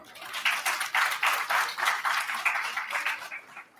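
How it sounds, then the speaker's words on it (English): Modest audience applause at a college alumni meet honoring a former principal, a moderately loud, somewhat uneven patter of clapping hands from a gathered crowd that thins toward the end. "A big round of applause for him."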